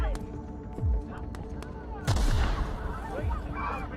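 Gunfire in the sci-fi game The Outer Worlds: scattered sharp shots amid game ambience, then a heavy blast around the midpoint followed by a rumbling tail and more shots, with voices calling out.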